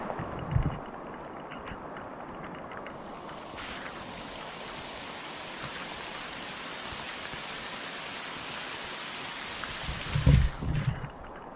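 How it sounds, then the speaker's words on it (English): Steady rain hisses throughout, with two low rumbling bursts near the start and end that could be distant thunder. "Yeah, it's raining."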